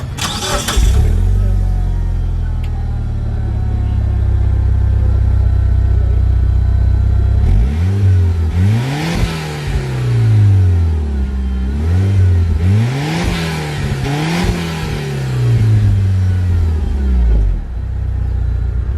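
A 2002 Mitsubishi Lancer Evolution 7 engine cranks and fires, settles into a loud idle, then is revved repeatedly in rising and falling sweeps before dropping back, heard close with no talk.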